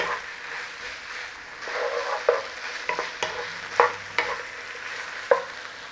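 Mushrooms fry in a pan with a steady sizzle, broken by a series of sharp scrapes and clinks from stirring, close and clear with no talking.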